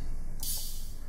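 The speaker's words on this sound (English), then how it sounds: "Ride." A dubstep ride cymbal sample sounding once, a bright shimmering high wash that sustains steadily for most of a second, with another strike beginning right at the end.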